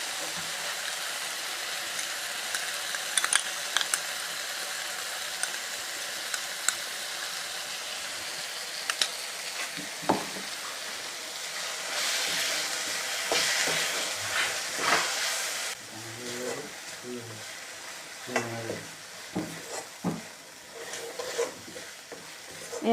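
Tomato, curd and red chili masala paste are stirred and fried in a pan for an Assamese egg masala curry, with a steady sizzle and intermittent scraping and stirring sounds close by.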